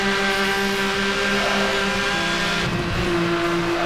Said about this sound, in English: This WRX has a very dirty sound to it.